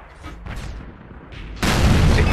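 Tank cannon fire in World of Tanks during play as an American T25 AT tank destroyer: dull booming shots and rumble, ending in a loud, sustained blast that fills the last second.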